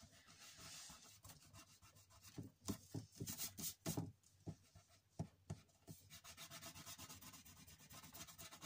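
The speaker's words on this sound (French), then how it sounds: "je vais venir prendre une gomme pour gommer le trait que je vois là" An eraser is rubbed back and forth over paper to remove a pencil line, with quiet, uneven scrubbing strokes in bursts that pause and resume close by.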